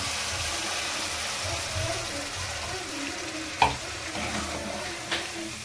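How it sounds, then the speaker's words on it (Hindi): Water poured into a pan of frying mustard masala for Bihari-style golden fish: a continuous loud sizzle and bubbling, with a sharp splash partway through and a smaller one near the end. "अब देखिए इसको पानी डाला जाएगा"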